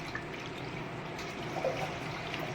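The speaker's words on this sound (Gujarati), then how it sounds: "એને આપણે આ રીતે હલાવીને કાઢી લેવાનું છે પાણી" Water swished around and drained off washed sago pearls in a bowl, a soft continuous trickling and sloshing at close range with no talk.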